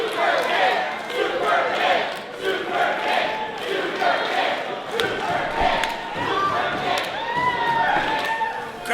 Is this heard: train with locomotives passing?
no